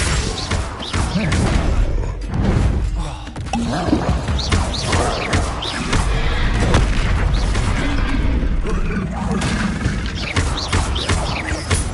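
Spellcasting in Hogwarts Legacy, including Confringo and Incendio, with a dense run of booming blasts, thuds and crackling impacts recurring across a loud battle.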